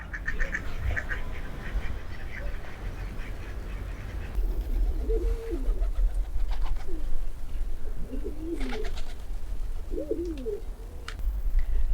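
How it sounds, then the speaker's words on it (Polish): Pigeons coo in soft, throaty phrases at a moderate distance on Manoel Island, Malta, repeating several times over a steady outdoor background with occasional other bird sounds. "chociaż widzę tutaj sporo też gołębi"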